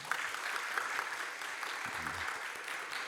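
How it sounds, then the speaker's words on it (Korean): Steady applause from a church congregation at a Wednesday worship service fills the space, a dense wash of clapping that holds even throughout. "우리 권사님들 다시 한번 축복의 박수 보내주시 바랍니다."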